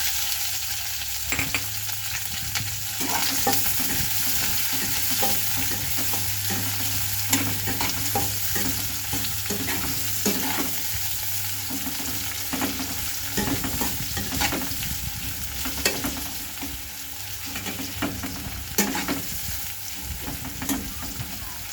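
Onions added to garlic and black cumin already fried in oil in a kadai sizzle steadily for a long stretch, while repeated scraping stirring strokes come and go up close and no one speaks.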